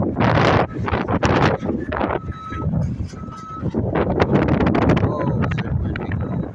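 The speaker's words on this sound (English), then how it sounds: "it's cold and it's windy. I hope you can hear me." Cold outdoor wind gusts hit the microphone with heavy low rumbling bursts throughout, and faint electronic beeps sound briefly in the background.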